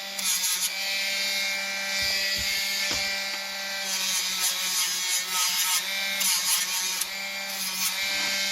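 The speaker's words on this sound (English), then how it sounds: "Then with the Dremel tool, and just making it smooth." A Dremel rotary tool smooths the edge of a dish, giving a steady high whine with rough grinding and rubbing scrapes, close and moderately quiet, with no talk.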